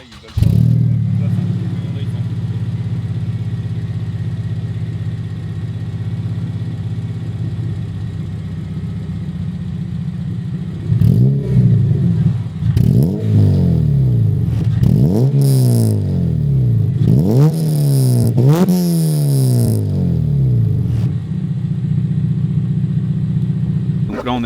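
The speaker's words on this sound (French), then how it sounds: "Donc maintenant on va pouvoir passer au démarrage de la voiture." A Honda Civic EP3 with a K20 VTEC engine idles with a steady low hum, then revs repeatedly in sharp bursts that rise and fall, loud and close, several quick blips in a row.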